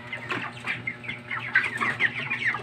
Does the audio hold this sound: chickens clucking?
yes